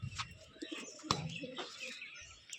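A white pigeon with a black beak coos close by, a few soft throaty calls with short chirpy notes in between, loud enough to stand out over faint background voices.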